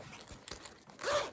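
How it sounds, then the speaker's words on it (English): A zipper is pulled open on a fabric yarn storage case with zipped pockets, giving a short scratchy rasp that swells and brightens toward the end, close and fairly quiet. "But if I unzip for you and hold it so that you can actually see"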